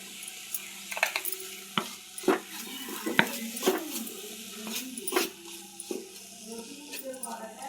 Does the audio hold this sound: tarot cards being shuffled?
no